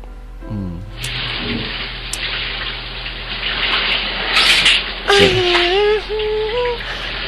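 Water gushes steadily from a tap or shower for a bath, a loud continuous rush with a few splashes, while a person's voice rises briefly over it near the end.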